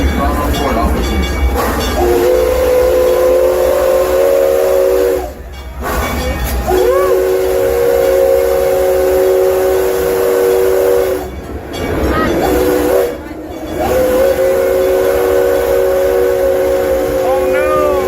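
Texas State Railroad steam train sounding its whistle in long two-tone blasts separated by short breaks, over the steady rumble and hiss of the running locomotive and cars, loud and close, with faint talk in the background.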